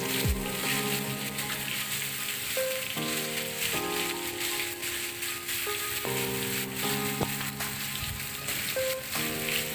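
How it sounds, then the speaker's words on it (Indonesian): Spice paste for opor ayam sizzles in hot oil as it is stir-fried, a steady, close hissing crackle like rain that runs throughout, with a tonal melody playing over it. "Kita tumis dulu bumbunya sampai harum"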